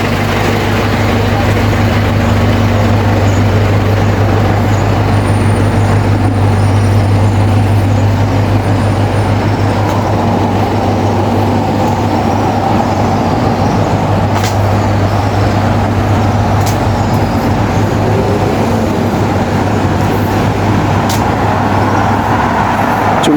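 City bus number 01 in Brunei gives a loud, continuous engine drone with road and traffic rumble that stays steady throughout.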